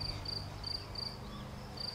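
Field cricket chirping as a story sound effect, a steady run of short high-pitched trills repeating about every third of a second over a faint background hiss.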